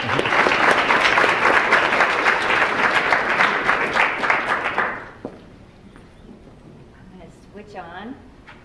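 A lecture audience applauds loudly and steadily for a speaker being welcomed at an evolution lecture series, the clapping cutting off after about five seconds, followed by quiet room noise and a faint voice.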